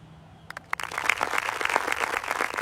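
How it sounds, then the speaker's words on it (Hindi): A crowd bursts into clapping after a police officer is suspended, the dense, even patter swelling in after a few sharp claps and holding steady, moderately loud and close. "भीड़ में तालियां"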